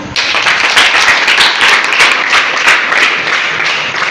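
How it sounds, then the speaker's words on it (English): Schoolchildren in a classroom clap together for a classmate who has just delivered a speech, producing a loud, dense patter of many hands that goes on steadily for several seconds. "Please give her claps."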